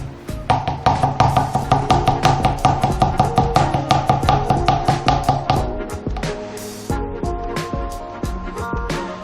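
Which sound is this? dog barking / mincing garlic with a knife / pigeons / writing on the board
mincing garlic with a knife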